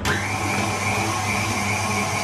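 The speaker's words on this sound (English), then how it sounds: "and then whisk that up." An electric whisk whirs steadily and close up through a cream cheese and mascarpone mixture for a cheesecake, a continuous high motor whine that starts abruptly and holds without talking.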